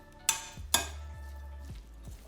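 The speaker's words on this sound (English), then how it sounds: "you want to gently mix this crab cake around" A utensil knocks twice against a bowl while crab cake ingredients are gently mixed, two sharp clinks followed by soft scraping and quieter taps, close and without talk.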